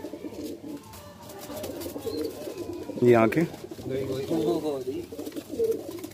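Deobandi pigeons coo softly in low, rolling bursts, one clearer coo standing out midway, while someone speaks over them throughout.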